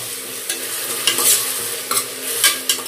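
Masala paste is stirred into gongura biryani in a pan: repeated scraping strokes of a spoon against the metal come every half second or so over a low continuous sizzle, close and fairly loud, with no voices.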